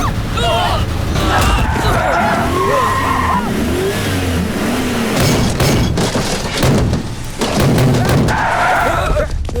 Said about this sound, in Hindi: चल गाड़ी भगा जल्दी।